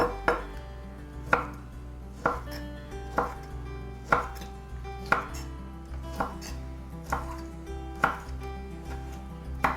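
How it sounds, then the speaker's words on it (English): Jarred roasted red peppers, drained, being chopped finely with a knife on a board: about a dozen crisp, evenly spaced chops in a steady rhythm, close and clear, with no talking. "drain them, and we're going to chop them quite fine"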